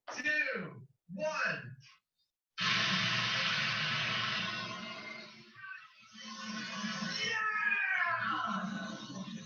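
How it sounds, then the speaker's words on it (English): A compressed gas cylinder's regulator valve shears clean off the tank during a pressure test, and the gas blasts out in a loud, steady hiss that slowly eases, after a couple of brief voices and a moment of silence. "The valve has sheared clean off"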